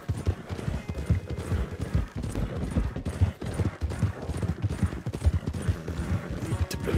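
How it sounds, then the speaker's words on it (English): Hooves of a galloping horse in Red Dead Online thud rhythmically and quickly, close up, with a steady rumbling beat throughout. "My horse can't catch up."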